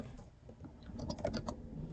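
Typing on a computer keyboard during Python coding, a quiet run of soft key clicks that quickens into a brief burst midway, close but faint.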